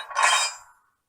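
Coupler of a Bowser Baldwin DS 4-4-1000 model locomotive letting out a single sharp, metallic clank with a short, bright rattle that dies away within a second.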